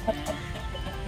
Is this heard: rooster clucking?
yes